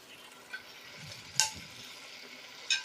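Pangas fish pieces fry with masala in a pan, a low soft sizzle under a few sharp scrapes and taps as the pieces are turned over.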